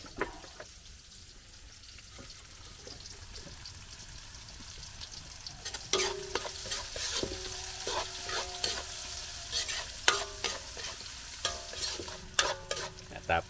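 Ginger, garlic and onion sautéing in a pan for coconut-milk shrimp with banana blossom, a low sizzle that grows livelier as a spatula stirs and scrapes repeatedly up close, no talk.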